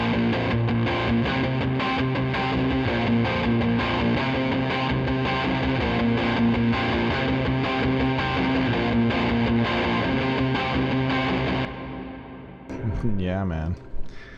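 A steady, dense guitar passage run through a Valhalla reverb plugin rings out with a washy, spacious reverb tail, then drops away near the end into a brief trailing swirl.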